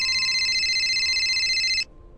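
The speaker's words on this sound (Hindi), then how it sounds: "केवल को उसके पिताजी का फोन आया।" Telephone ringing with an incoming call, a steady electronic trilling ring, loud and close, cutting off abruptly after about two seconds.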